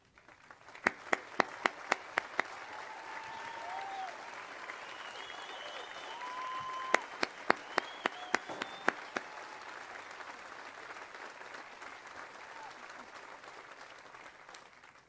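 Audience applause at a high school commencement, with spread-out clapping from a crowd in a large venue and a few sharp, close hand claps standing out near the start and middle.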